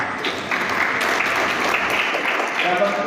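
An audience at an elementary school Quran-completion ceremony gives sustained, dense applause that fills a hall for about three seconds, with a voice audible over the clapping.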